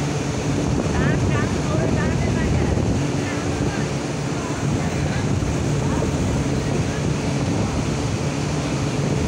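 The Silk City Express rolls slowly through Saidabad railway station, a loud, steady rumble and rush of wheels and wind that holds constant for several seconds while a voice speaks over it.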